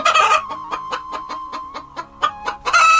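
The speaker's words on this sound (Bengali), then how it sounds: "ওরে বাবারে, মুরগিগুলো তো ডেকে উঠছে।" Cartoon chickens cluck in a rapid, loud series of about a dozen sharp clucks, evenly spaced and heard alone with no talking.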